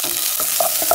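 Corn kernels hit a hot pan of browned almonds and chayote, setting off a steady close sizzle with a few scraping stirs and no talk.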